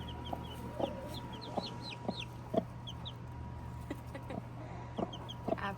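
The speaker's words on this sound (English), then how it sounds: "Let's see how Mama's doing with the chicks." A mother hen clucks softly and repeatedly while her chicks peep in high, scattered chirps, all close by over a steady low background hum.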